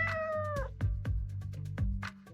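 A cat in the Choices video game meows several times in quick succession, close and fairly loud, with a low purring rumble running beneath the calls.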